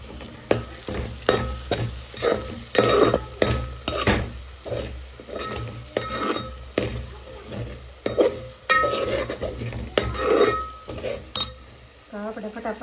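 Asafoetida, turmeric and coriander-cumin powder frying in oil in a pan for baingan bharta, a continuous sizzle broken by repeated scraping strokes of a spoon and metallic clinks against the pan.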